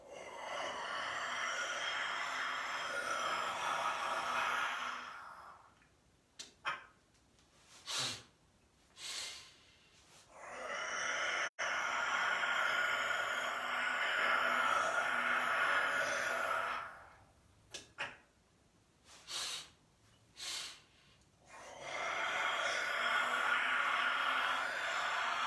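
Deep breathing exercise during a yoga-style session: long, loud airy inhales and exhales alternating in slow cycles, with short sniffs and breaths between them, very close to the microphone and without talk.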